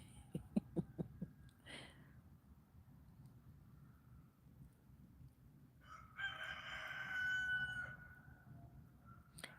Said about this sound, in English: Listen to the roosters crowing.